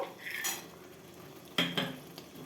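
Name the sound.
cashews added to pan of tomato grape chutney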